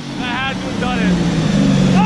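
A newly fired-up 1200+ horsepower engine, linked to dyno work, rumbles loudly and steadily while voices sound over it.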